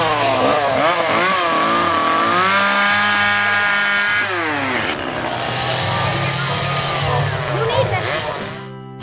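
A chainsaw used for chainsaw carving at a campground anniversary event runs loud and close, its engine droning steadily and then swinging up and down in pitch as the throttle changes.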